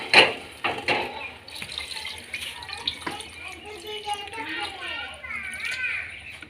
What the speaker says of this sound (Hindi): जी अब डाला जा रहा है पानी इसके अंदर।